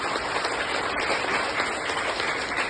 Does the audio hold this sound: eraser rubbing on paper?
no